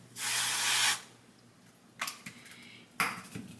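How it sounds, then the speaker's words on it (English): Avocado oil sprayed onto a frying pan, one loud, near hiss lasting most of a second, followed by a few clanks of the pan and cookware. "So I'm gonna make myself 2 fried eggs, so just some avocado oil on a pan"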